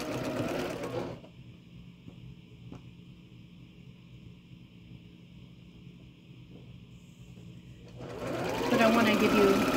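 A sewing machine runs steadily, stitching log cabin quilt block strips with a continuous close mechanical hum and whir. Someone talks before and after the stitching.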